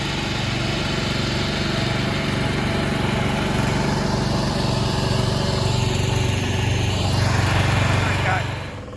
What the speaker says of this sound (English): This is a zero-turn lawnmower, yard man, but it's a lawn tractor.